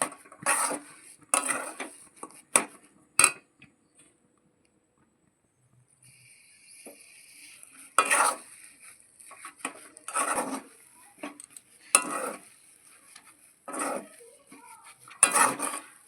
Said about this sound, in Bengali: দেখো জলটার মধ্যে সুজিটা দিয়ে দিয়েছি দিয়ে এটা একটু ভালো করে মিশিয়ে নিতে হবে